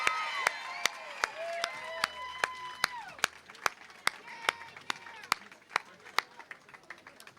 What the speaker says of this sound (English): Ladies and gentlemen, a big round of applause for Bill Cosby.